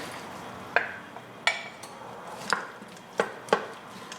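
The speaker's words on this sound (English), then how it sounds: "I'm just going to stir this up right now." Potatoes and clam juice are stirred in an Instant Pot, with five soft, spaced knocks of a spoon against the pot's inner wall over a quiet background.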